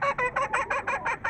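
White and brown hens clucking in a steady, rhythmic series of about eight close, moderately loud bursts, with no voices present.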